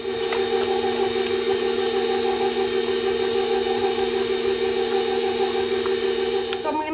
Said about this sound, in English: we're gonna go ahead and use the mixer and mix it until it is nice and smooth